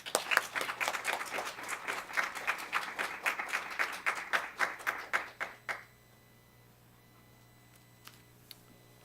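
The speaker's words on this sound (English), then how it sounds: "please help give me a warm round of applause for Representative and Chairman" Audience applause for a congressional chairman at a policy forum on the Trump-Kim summit, a burst of distinct claps that fades out around six seconds, leaving quiet room tone with a couple of faint ticks.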